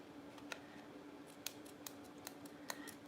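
Small craft scissors snip through a sticker for a winter traveler's notebook kit, giving a quiet series of crisp, close cuts spaced irregularly over a faint steady hum.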